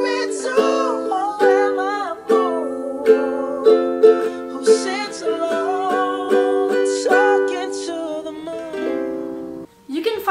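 Ukulele plays Bruno Mars's "Talking to the Moon" with clear, close strummed chords and plucked melody notes, loud and steady across the passage with no voices and a brief gap near the end.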